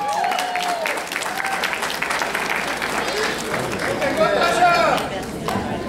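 Wedding reception guests applaud steadily for the groom's sister, a dense wash of clapping that runs the whole stretch, with voices and cheers mixed in.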